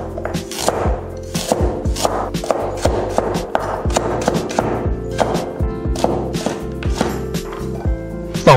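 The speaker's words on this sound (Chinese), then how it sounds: "洗净后切成段，再切成片。" A knife cuts washed carrots into chunks and then slices on a cutting board, giving a quick, regular series of sharp, close chops with no talking.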